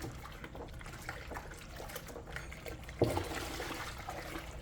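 Homemade neutral liquid detergent, a large batch, is stirred in a container, giving soft, faint sloshing and swishing with one slightly louder splash partway through.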